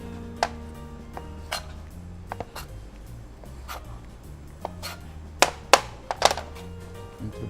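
A knife taps sparsely on a board while bread is cut into rough pieces, with light, close, irregular knocks and clicks of crockery against a quiet room background.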